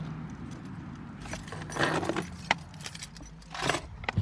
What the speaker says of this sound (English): Oh, drop the keys.